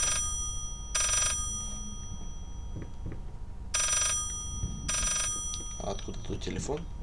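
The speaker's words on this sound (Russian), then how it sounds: "Телефон? Где? За стеной телефон." Telephone ringing behind a wall in the horror game Layers of Fear, a few muffled bursts of electronic bell tones spaced apart over a low rumbling ambience, with someone talking in between.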